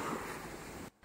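Sea waves wash onto a beach in a rushing, hissing surge with some wind noise, then cut off abruptly near the end.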